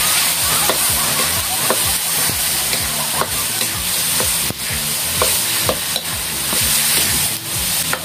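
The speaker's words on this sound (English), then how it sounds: "Mix the tomato, onion, and eggplant. You make mix" Tomato, onion and eggplant are stirred in a hot wok, a continuous loud sizzle with repeated rhythmic scraping and clattering strokes of the spatula throughout.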